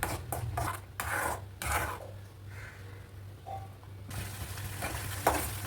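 Spices and ground fenugreek being stirred into tomato thokku cooking in oil, with rhythmic scraping strokes of a spoon over a soft sizzle and a low steady hum underneath.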